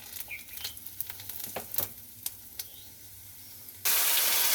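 Whole cumin, dried chillies and bay leaves hit hot oil for a Bengali chana dal, with a few scattered crackles and pops first, then a sudden loud, steady sizzle bursting up near the end.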